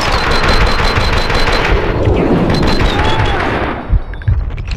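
Continuous loud gunfire from the video game Max Payne 2: rapid automatic bursts and shots layered densely for several seconds, close and dominant, with a few heavier thuds near the end as the firing thins.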